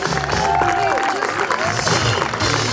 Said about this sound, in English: a big round of applause for all of our T-Ball teams